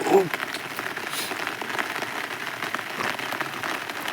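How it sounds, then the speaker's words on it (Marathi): Steady rain pattering on a surface, a dense even hiss throughout, with a faint voice briefly at the start. "परत आता बी पाऊस चालू आहे"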